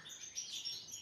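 Goldfinch chirping inside an aviary, a run of faint, high, thin twittering notes held steady through the brief moment with no voices around.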